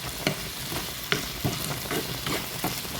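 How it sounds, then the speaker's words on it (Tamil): Carrots and green beans sautéing in a pan for a coconut milk curry, a steady close sizzle broken by repeated scraping stirs of a spoon against the pan, with no voices. "கொஞ்சம் அப்படி வதங்கி வரட்டும்"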